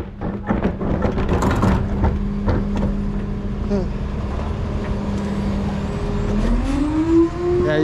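Road traffic passes close by as a loud, continuous engine rumble, with one vehicle's whine rising toward the end while voices talk over it.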